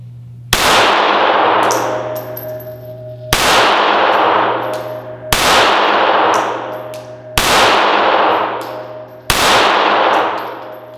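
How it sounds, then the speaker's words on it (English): Five shots from a Springfield Armory 911 .380 pistol at 5 yards, each followed by a loud ringing clang from a steel target, spaced about two seconds apart with long metallic decay. "first I'm going to start off with the 911 from Springfield Armory, 5 rounds at 5 yards"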